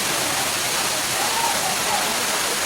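A monsoon waterfall near Bhandardara, Maharashtra, roars as a dense, steady rush of falling water, loud and unbroken from start to finish, heard from a viewing spot.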